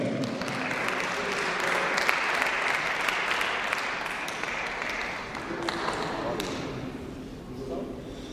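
An audience at a gala show of a world folk dance festival in Armenia applauds loudly, a dense, sustained wash of clapping that thins out toward the end, with a voice over it.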